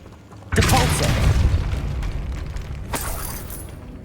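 A Depulso force-push spell goes off in the Hogwarts Legacy video game, a sudden loud booming burst with rumbling debris that fades, then a second sharp crack near the end.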